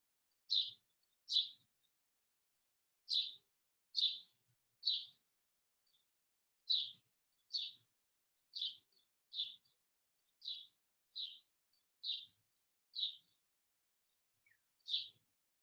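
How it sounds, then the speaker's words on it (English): Birds chirp in a back garden, a sequence of about fifteen short high tweets in loose pairs and singles, fairly distant and clear against an otherwise silent background. "hear the birds that are chirruping in my back garden"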